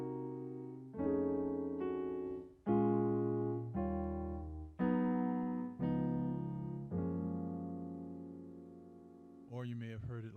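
A minor 7 flat 5 chord in gospel style is voiced on keys as a sequence of sustained chords, each struck clearly and left ringing, ending in a brief rolled flourish.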